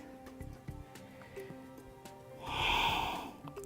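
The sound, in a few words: exhaling breath during prenatal yoga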